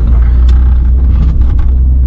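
Peugeot 205 Mito 1.1i from 1996, a small petrol hatchback, drives through a busy retail-park area, its engine a steady low rumble heard from inside the cabin, loud and continuous with no talk.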